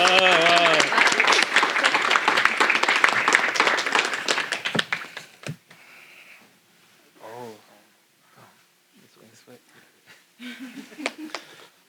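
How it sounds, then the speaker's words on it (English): A crowd applauds loudly for about five seconds, the clapping fading out into quiet murmurs and a voice speaking. "let's give them a round of applause"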